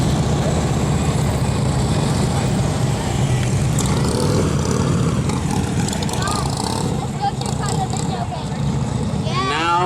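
Heavy 900-pound police motorcycles ride tight turns through a demonstration course at a block party; a loud, continuous engine roar dominates, with a rising whine near the end and crowd noise underneath.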